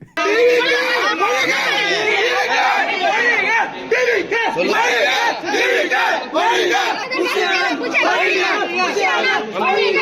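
A dense crowd of political party supporters shouts and clamours together at a rally, a loud continuous babble of raised voices and calls with overlapping cries, close and sustained throughout.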